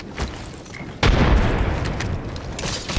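A frag grenade goes off in Apex Legends as a single sudden, loud boom with a broad rumbling blast that lingers and decays over the following seconds, after quieter game ambience.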